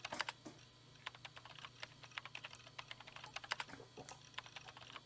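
A character types on a computer keyboard in the visual novel video game ChäoS;HEAd. Rapid, uneven clacking keystrokes run steadily for several seconds at moderate distance over a low background hum, with no talk.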